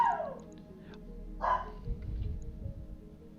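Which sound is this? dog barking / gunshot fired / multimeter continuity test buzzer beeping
dog barking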